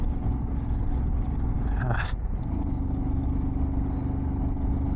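A motorbike engine labours steadily uphill at high altitude on the Changla Pass road in winter, a continuous low drone with wind rush and a brief rising whine partway through.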